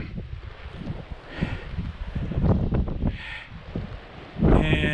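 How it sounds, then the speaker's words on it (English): Blustery wind buffets the microphone outdoors while a large kite is flown on a steady breeze, with low rumbling gusts and rustling swelling and easing over a few seconds, including a stronger burst near the end. "It's the first day I've had a nice steady wind with this kite."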